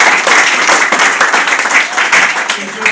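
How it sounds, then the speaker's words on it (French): A church congregation claps along in a dense, loud burst of applause with voices mixed in. "Clap your hands."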